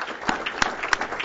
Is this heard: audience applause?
yes